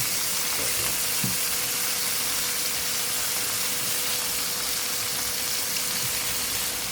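Chicken frying in a skillet without oil, giving a steady close sizzle with occasional soft pops and a constant hissing layer throughout.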